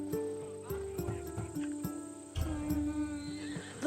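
Macedonian war horse in Assassin's Creed Odyssey, a battle-bred warrior's mount, gives a short whinny amid clip-clopping hooves, with a voice speaking over the game audio.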